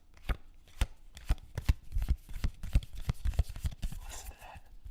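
Magic the Gathering cards from a Theros Beyond Death booster are shuffled up close, making a quick run of crisp slaps and riffling flutters with no talking.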